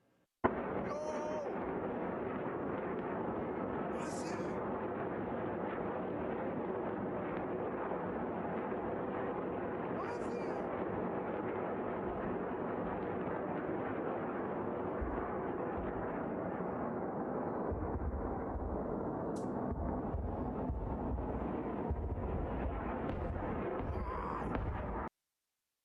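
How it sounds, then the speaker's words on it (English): Missiles and Iron Dome interceptor explosions over Israel make a continuous, dense roar of booms and rumbling blasts, loud and unbroken throughout, with a few sharper pops standing out. "take a look at this video of the missiles and the Iron Dome shooting them down"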